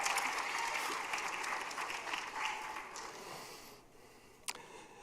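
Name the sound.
audience applause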